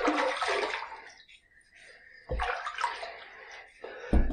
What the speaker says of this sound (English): So let me just put a little water on my head.